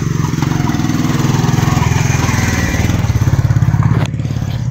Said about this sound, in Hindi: ये आप देख सकते हो आगे मोटरसाइकिल आ गया है।